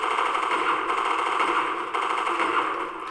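Rapid, continuous gunfire from a shotgun in Resident Evil Revelations 2 Raid Mode, a dense, loud barrage that holds steady for about three seconds with no talking over it.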